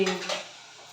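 A metal lid clanks onto a cooking pot of mutton with garlic in a home kitchen: one short, bright clatter that fades quickly into quiet, with no talking.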